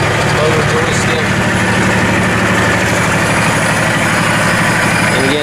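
A 1996 Kubota L2900GST tractor idles steadily with a constant, loud, low engine drone that never changes pace, while a person talks over it.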